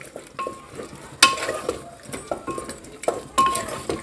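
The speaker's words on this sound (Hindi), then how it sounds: "और अब मैं मिक्स कर दूंगी।" A spoon stirs cucumber sabzi in a pan, giving irregular scraping and stirring strokes with a few sharp metallic clinks against the pan, at moderate volume with no talking.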